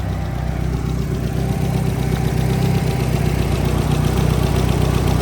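A 1G Mitsubishi Eclipse GSX with a front-mount intercooler idles steadily up close, its low engine drone holding an even, slightly lumpy rhythm throughout with no talking.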